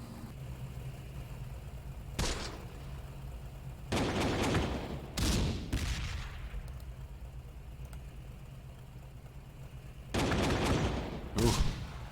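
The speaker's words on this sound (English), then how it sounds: "Oh, he's firing down on me now." Gunfire in the tactical war game Close Combat: The Bloody First, in a battle at Sbiba Ridge: several loud bursts of shots come at uneven intervals over a steady low background, with no talk.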